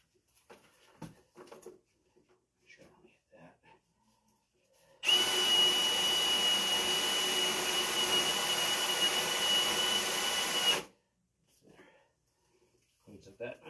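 A sewer line cleaning machine runs loudly for about six seconds as a steady, broadband roar that starts and stops abruptly, with quiet talk before and after.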